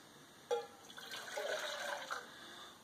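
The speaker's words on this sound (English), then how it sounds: "We are going to add water to this." Water poured into a container of hot chocolate mead ingredients, a short gush and trickle after a soft knock, fairly faint and with no talk.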